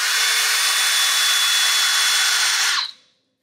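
A sharpened drill bit bores into a silicone mold, a steady loud whirring grind with a faint whine that runs for nearly three seconds, then cuts off abruptly into silence.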